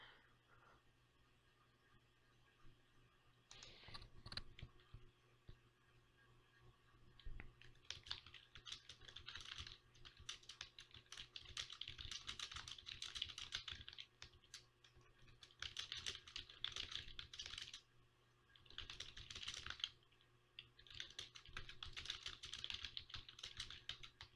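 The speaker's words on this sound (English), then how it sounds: "Oh, I'm typing to somebody." Computer keyboard typing in quick bursts of clustered keystrokes separated by short pauses, close and moderately loud, with a steady low hum underneath and no talking.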